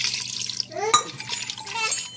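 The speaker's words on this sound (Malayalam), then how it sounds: "അല്പം വെള്ളവും കൂടെ ചേർത്ത് നമുക്ക് കുക്കറിൽ വെച്ചതൊന്ന് വേവിച്ചെടുക്കാം." Water poured into chicken pieces in a pressure cooker for a Kerala-style roasted-coconut rooster curry, a short splashing trickle with a brief sharper pour near the middle, close and moderately loud with faint kitchen background.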